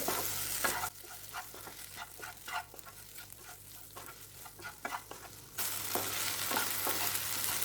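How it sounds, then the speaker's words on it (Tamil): Lady's finger fry is stirred with masala in a hot pan: a loud sizzle, then repeated scraping strokes of the spoon under a quieter fry, then the sizzle swells again, with no voices. "நல்லா கிளறி விடுங்க. அந்த மசாலா வெண்டைக்காவோட நல்லா சேரணும்."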